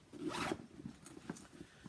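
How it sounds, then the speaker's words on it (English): A zipper on a large canvas tote bag with a plastic-coated lining is pulled shut, one long close rasp followed by a few shorter tugs. "And you can zip it up."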